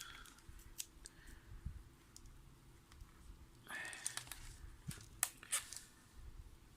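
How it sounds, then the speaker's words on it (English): Scissors snip through the insulated wire of a string of Christmas lights during a plug and switch repair, giving a few sharp, close cuts over a quiet room background. "So I'm gonna cut our wire."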